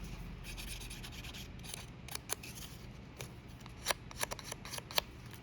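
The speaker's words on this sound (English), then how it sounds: "I'm just going to use my pencil crayon and rub that edge with the blue." Blue pencil crayon rubbed along the edge of a handmade friendship card, giving soft scratchy strokes that come in short bursts, with several sharper scrapes near the end, close up and fairly quiet.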